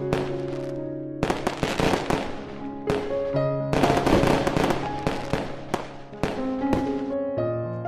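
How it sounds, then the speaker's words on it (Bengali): Cartoon fireworks set off one after another, a dense run of loud crackling bursts and bangs over bright musical tones, continuous and busy throughout. "এক এক করে সবাই সবার আতশবাজি ফোটাতে থাকে"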